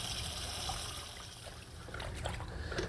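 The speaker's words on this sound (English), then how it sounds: "Now you run cold water into it." Cold tap water runs steadily into a pot of freshly cooked green vegetables to refresh them and stop the cooking, a continuous trickling splash in a kitchen with no talk.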